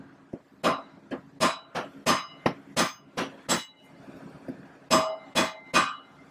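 A hammer strikes a punch to loosen the wheel nut on a 2006 Harley-Davidson V-Rod, about a dozen sharp metallic clinks in uneven bursts with short pauses between, close and clear with no talk.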